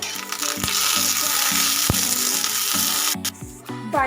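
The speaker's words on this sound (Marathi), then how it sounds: "आपण याच्यामध्ये थोडंसं तेल टाकून घेऊ आणि परत भाजून घ्यायच्या" Green chilies roasting in oil in a pan give a steady, loud sizzling hiss with scattered clicks and scraping, briefly dipping near the end.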